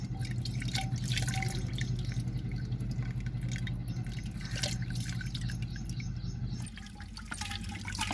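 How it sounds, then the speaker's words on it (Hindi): During ghee making, water trickles and drips onto buttermilk in a pot in a steady, close, liquid patter that continues throughout and eases slightly near the end. "थोड़ा सा रही पे पानी डाल देते हैं।"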